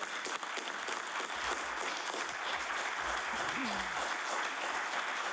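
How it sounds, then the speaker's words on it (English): Warm applause from visitors in the gallery of a House of Assembly chamber, honouring the coaching staff; a steady, dense patter of many hands held at moderate distance, with a voice briefly heard under it. "I'd ask the host to give them a warm round of applause"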